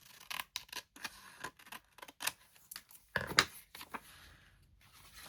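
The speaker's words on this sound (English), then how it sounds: "Cut off the top flap." Scissors snipping through the top flap of a paper seed packet for a garden journal folio, a run of quick, crisp cuts in irregular bursts, close and fairly quiet.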